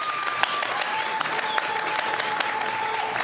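An audience applauds with steady, dense clapping as a vote for a contestant at a live show, a thin held tone sounding faintly behind it.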